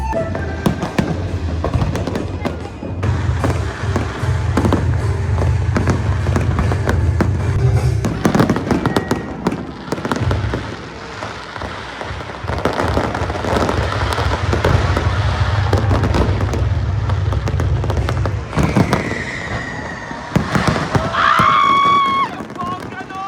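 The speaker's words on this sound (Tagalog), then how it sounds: "Ang bongga-bongga ng pa-fireworks!" Loud Chinese New Year fireworks burst and crackle continuously, with booming low thuds and a crowd cheering and talking throughout; a whistling rocket rises near the end.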